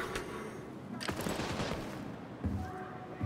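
Gunfire in The Division 2, with rapid overlapping shots and sharp cracks fired close and loud in quick bursts across a few seconds, backed by faint game ambience.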